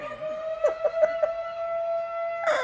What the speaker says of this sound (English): Fucking siren.